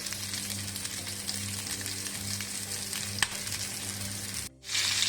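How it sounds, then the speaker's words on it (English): Three pork sausages fry in a dry pan with no added oil, a steady close sizzle with a faint low hum beneath, briefly cut off near the end before sizzling again. "Now we place our sausage, our 3 sausages that we need to fry"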